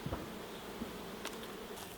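Honey bees drone in a steady, close buzz around an opened hive during a queen-rearing split, a continuous hum with a few louder passes as individual bees fly near.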